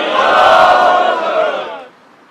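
A street protest crowd against inflation and taxes shouts a slogan back in unison, one loud, sustained roar of many voices that cuts off after about two seconds.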